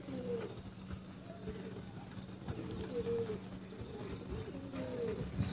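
Pigeons coo softly and repeatedly in their cages, with the light shuffling and flutter of birds hopping about close by under a low background hum.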